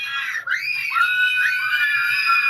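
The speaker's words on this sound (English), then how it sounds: "Everybody starts screaming." A group of excited kids riding in a van let out sustained, high-pitched screams that overlap and carry on without pause, loud and close.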